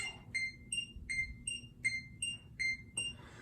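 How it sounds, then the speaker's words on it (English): A metronome set to 80 beats per minute ticks steadily, eight bright, evenly spaced beeping clicks heard alone and close. "we want to go about 80 beats a minute, and that sounds like this on the metronome."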